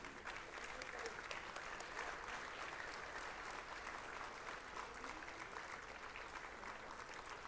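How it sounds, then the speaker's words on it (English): Sustained crowd applause greets a chief guest at a formal ceremony, a thick, even wash of clapping that holds steady from start to finish, with an amplified speaker faintly over it. "Let's make it louder for our esteemed dignitary."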